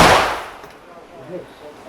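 A Flare45L balloon burster fires with a single sharp, loud bang that decays quickly into a quiet outdoor background.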